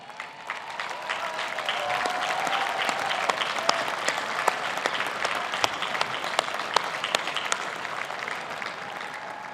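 Sustained applause from a large crowd at a university graduation ceremony, many hands clapping steadily throughout with a few sharper claps standing out.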